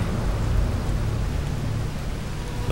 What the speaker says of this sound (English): Thunder rolled in the valley. Rain came lashing down.